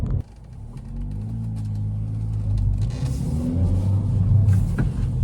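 A 2021 Kia Forte GT with a six-speed manual cruising in third gear, a steady droning engine rumble heard from inside the cabin that rises and strains a little as the revs climb, with no talking.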